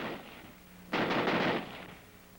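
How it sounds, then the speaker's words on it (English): A Browning automatic rifle fires one loud, sustained full-auto burst of under a second, heard alone after a quiet start and fading off afterward. "the rifle will continue to fire as long as the trigger is held back"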